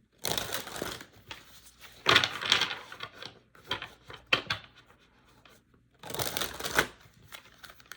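Tarot cards are riffled and shuffled in several short bursts of crisp papery flutter, close by, separated by brief quiet pauses.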